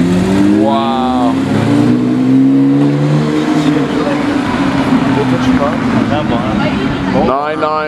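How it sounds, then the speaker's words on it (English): A Porsche 992 GT3 revving at a night car meet: loud, rising and falling engine revs with sharp climbs in pitch near the start and end, layered over heavy ambient car noise and excited talking. "992 GT3 in Viola Metallic Purple PTS"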